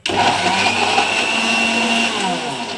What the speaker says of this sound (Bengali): তো আমি এগুলো এখন রেডি করে নিচ্ছি, মিক্সিতে গ্রাইন্ড করে নিচ্ছি।